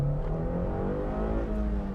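A slow daily-driver car's engine revs steadily and loudly up close, a sustained droning tone that climbs slightly in pitch and then falls back, with no talking.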